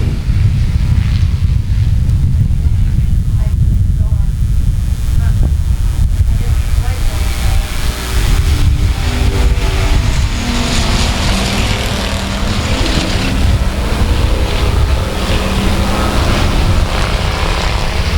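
Race cars roar away together under a green flag at South Texas Speedway, a dense, loud engine wash with low rumble building steadily throughout, an announcer talking over the field.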